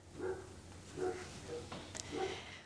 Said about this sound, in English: There go the dogs. The dogs are barking.